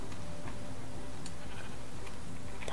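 Sheep bleats from the Minecraft video game, repeated several times against a steady, noisy game background, with no talking.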